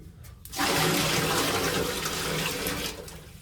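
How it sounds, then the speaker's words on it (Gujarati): Cold water gushes and pours steadily into a tub of hot bathwater for about three seconds after a brief quiet start, close and loud. "હવે એમાં છે ને આ ઠંડુ પાણી નાખવાનું છે એટલે થઈ જાય ને મિક્સ પાણી"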